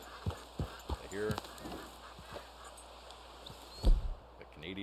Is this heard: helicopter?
no